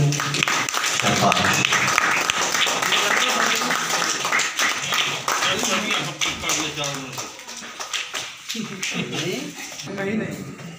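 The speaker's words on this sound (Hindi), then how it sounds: "तालियां रुकनी नहीं चाहिए" Crowd applause at a New Year poetry gathering and recitation contest in Tundla, a continuous clatter of clapping beneath someone speaking over a microphone, thinning slightly toward the end.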